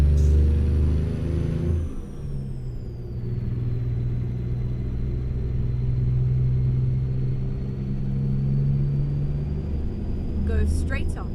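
A heavy truck engine in American Truck Simulator drones steadily at low pitch, labouring as it struggles to shift into fifth gear, with a brief rise in revs near the start and a rattle at the end.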